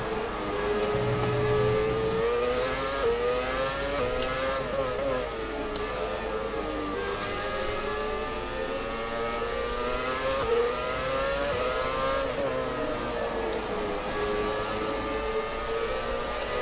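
Formula 1 car in the F1 2017 racing video game, its high-pitched engine howling steadily through a long stretch with rises and dips in pitch as it shifts and accelerates, loud and continuous, no talk.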